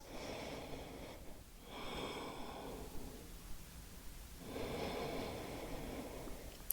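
Slow, deep breaths during a hatha yoga side stretch, soft airy inhales and exhales rising and fading in a steady rhythm, close and quiet with no talking.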